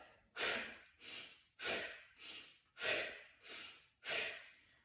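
Slow, deep breathing exercise with steady alternating inhales and exhales, about seven breath sounds in five seconds, close and fairly soft, with no talking.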